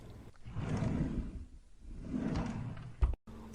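A drawer slides open out of a kitchen cabinet in two long, rumbling pulls, followed by a quick knock as it stops.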